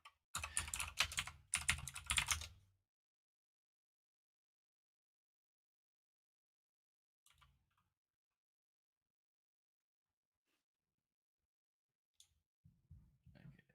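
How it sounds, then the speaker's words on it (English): Loud typing on a computer keyboard, bursts of fast clicking keystrokes close up, then long near-silent stretches broken by a few isolated taps and faint clicks. "Sorry about my keyboard if it's super loud."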